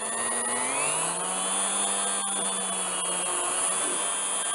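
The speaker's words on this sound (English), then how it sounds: "and now I start drilling." Hand drilling a hole through a small whirligig fishing lure workpiece with a fast-spinning bit and slow feed, giving a steady close whine with a low hum that runs unbroken throughout.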